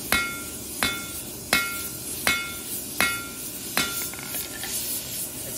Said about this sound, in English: forging a taper on the end of the bar